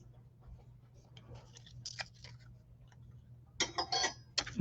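A small postage-stamp die cuts through cardstock during card making, giving faint, crisp crackling and rasping bursts over a low hum, with the loudest cluster near the end.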